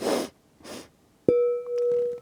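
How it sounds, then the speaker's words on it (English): Two quick sniffs through the nose during a guided meditation breathing exercise, close and distinct, followed by a sudden struck metallic tone that rings on steadily as a pure sustained note. "Inhale through your nose. Extra sniff or two."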